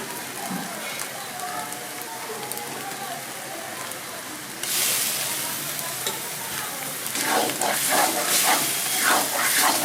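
Chili paste hitting a hot pan of scrambled egg bursts into loud, steady sizzling midway, crackling and spitting close by after a quieter stretch of stirring and pan noise.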